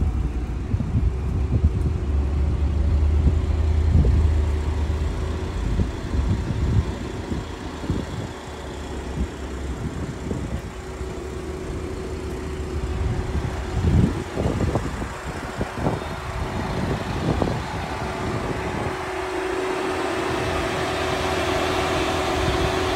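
BMW X3 plug-in hybrid on a test drive, a steady muted cabin hum and road rumble with a faint engine note, plus a few scattered knocks and clicks along the way.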